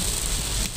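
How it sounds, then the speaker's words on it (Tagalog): Heavy rain pouring down, a steady dense hiss of drops that fills the whole clip at close range, loud and unbroken, with no voices over it. "Grabe, ang lakas ng ulan."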